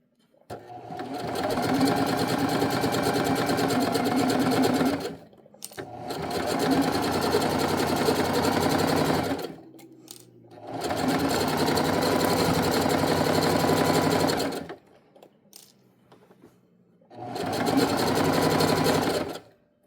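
A sewing machine stitches a hem on athletic pants, running loud and steady in four long bursts separated by short pauses, with faint handling sounds in the gaps.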